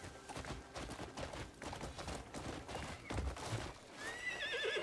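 A horse in the video game Crimson Desert whinnies loudly and its hooves clip-clop steadily during horseback riding, with the neigh rising near the end over a busy game soundscape.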